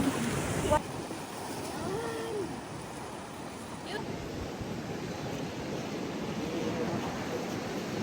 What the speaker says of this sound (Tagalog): Ang ganda ng waves.